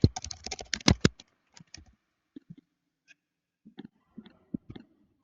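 Typing on a computer keyboard, close clicking keystrokes: a quick dense flurry at first, then sparse irregular taps and short bursts separated by silence.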